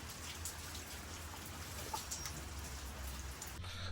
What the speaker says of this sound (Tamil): இப்போ வந்து துளியாக மழை தூரிக்கொண்டு தான் இருக்கு